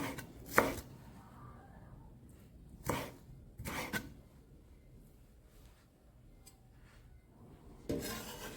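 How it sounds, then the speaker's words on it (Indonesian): Spring onions are chopped with a knife on a board for bakwan fritters: a few separate bursts of cutting strokes, close and fairly quiet, with long pauses between them. "potong-potong daun bawang"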